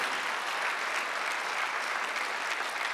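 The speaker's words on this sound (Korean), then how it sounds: "박수 한번 더 주세요" Steady applause from a church congregation during a Korean Sunday service fills the space, a dense, even patter of many hands clapping without a break.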